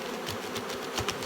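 Bees buzz in a beehive during a builder trial inspection, a steady close hum with small swells, heard alone without talk.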